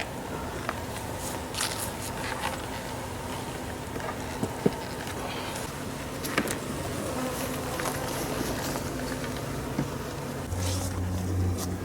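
Honey bees hum steadily around an opened hive during an October inspection, a dense close insect drone with brief louder buzzes as individual bees pass near.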